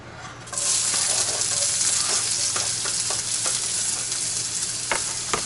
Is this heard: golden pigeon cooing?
no